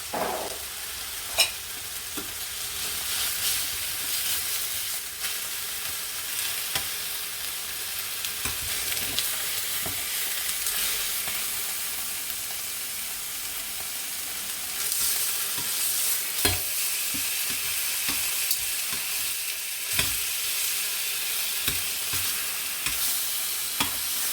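Chicken breast frying in a pan gives a steady, close sizzle and crackle lasting throughout, with occasional sharper pops and light scraping, and no talking.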